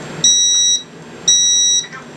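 Smoke detector sounding during a test, two loud, steady high beeps about half a second each with a short gap, close and piercing.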